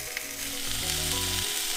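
Pieces of pork, including skin, sizzle and fry steadily in a pan as they brown. The sound is a loud, constant hiss with a low background hum beneath it.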